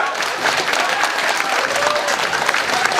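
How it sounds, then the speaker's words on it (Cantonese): An audience at a wedding banquet applauds as the newlyweds enter, a dense, loud, continuous clapping from a crowd, with a few voices faintly mixed in. "我哋一齊俾啲掌聲，我哋一個新人而家進場"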